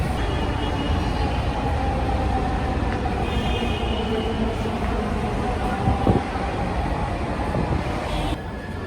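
A steady, droning rumble of a Dhaka metro rail train in motion fills the space, with faint higher whines and a brief clank partway through.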